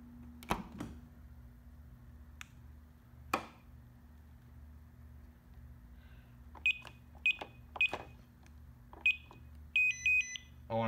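Short, bright electronic beeps come from a BHS 3102 security keypad. Single and paired chirps start after a quiet stretch with a few handling knocks, and the beeping grows denser toward the end over a steady low hum.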